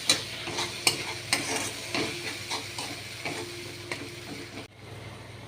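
A ground paste of mustard, poppy seed, tomato and green chili fries in a pan over onions, giving a steady close sizzle and hiss with repeated sharp scrapes and taps of stirring.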